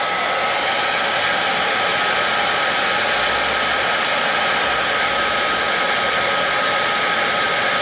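Heat gun blowing steadily on heat-shrink tubing over repaired Ford E350 wiring near the fuel tank, a continuous close, loud airy roar with no pauses.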